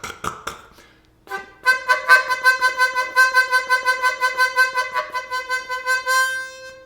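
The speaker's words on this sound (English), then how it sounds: "You can also do like what's called a throat vibrato" C harmonica played with a throat vibrato: after a few taps and a short breath, a sustained chord pulses rapidly and evenly for several seconds, close and clear with no talking.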